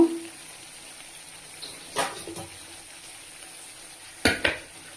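Prawns going into a pan and being stirred, with a low frying hiss broken by a few sharp metallic scrapes and clinks of a utensil against the pan.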